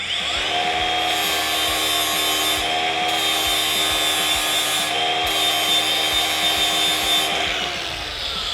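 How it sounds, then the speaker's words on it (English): An angle grinder dresses and deburrs a metal edge during a Toyota... no, a D-Max build fitting 35-inch tyres, giving a loud, steady whine that runs continuously with slight pitch dips as the disc bites the edge, close up. "we'll just dress that quickly with the grinder"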